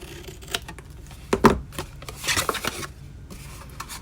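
Scissors trim paper for a holiday box, angle-cutting both sides: a series of soft, crisp snips and light paper rustles, close and quiet, with no talking.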